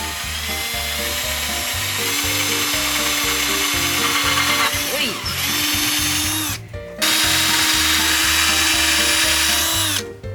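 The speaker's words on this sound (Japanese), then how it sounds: "今からこれを取り付けるための穴を木に開けていきます" A power drill boring holes in wood for mounting a light in a DIY used-car camper conversion: a loud, steady whining motor drone running continuously, with a brief pause and slight pitch dips as the bit cuts.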